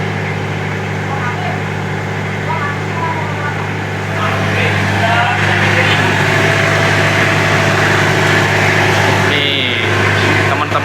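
A 1999 Toyota Kijang engine held at a steady 1500 RPM with PVC pipe, a constant loud mechanical drone with a deep low hum, close by, with people talking over it.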